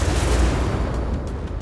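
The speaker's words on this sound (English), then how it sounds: "being able to launch size 1 missiles in salvos of 8" Dense rapid salvo of missiles launching from a Tumbril Storm anti-air tank in Star Citizen, a loud, continuous roaring burst of overlapping firing blasts with no pauses.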